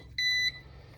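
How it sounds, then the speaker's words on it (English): A Ruko F11 Pro 2 drone remote control gives a single short, clear electronic beep while trying to connect, with a faint low hum underneath. "It'll beep until it does connect."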